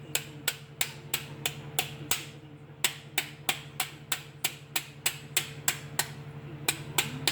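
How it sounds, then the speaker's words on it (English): Hammer tapping dune buggy sheet metal smooth during a restoration, a steady series of about twenty sharp, close metallic taps at a regular rhythm, with a brief pause partway through, over a low background hum. "It's a hammer."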